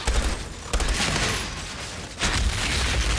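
Small creatures exploding in Outriders, bursting in a rapid series of loud, noisy blasts with sharp onsets, close and dense, packed one after another over a few seconds.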